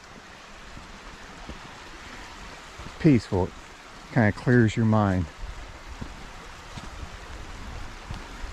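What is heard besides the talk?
creek water flowing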